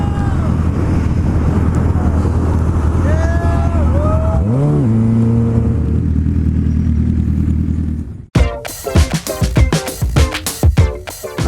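Car being driven with a steady low engine drone and wind buffeting, revs rising and falling through gear changes for several seconds before an abrupt cut to lively people talking.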